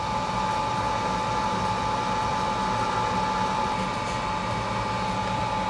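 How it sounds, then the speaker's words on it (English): A Dremel rotary tool grinds copper traces on a Vizio M75-C1 4K TV mainboard, a steady high whine with a buzzing grind that runs without pause, close and loud, with no voices. "we're gonna be using our Dremel to expose some more of the copper"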